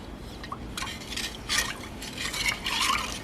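Glove dye being stirred in an old crock pot, bursts of sloshing and scraping as a utensil sweeps around the pot, coming in repeated strokes that grow louder toward the end, with no talking.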